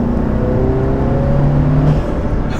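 Audi A3 with an APR open intake revs up, its engine note a loud, close, continuous drone with slowly rising tones and a constant whirring intake roar throughout.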